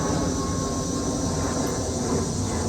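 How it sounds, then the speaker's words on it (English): An airplane flies overhead outdoors, a steady broadband roar that holds at a constant loud level throughout, with no voices. "I'll wait for the airplane."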